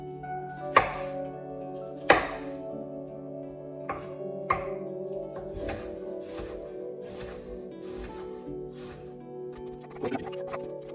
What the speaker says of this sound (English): You're just cutting up your fruit